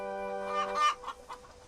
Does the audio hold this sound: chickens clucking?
yes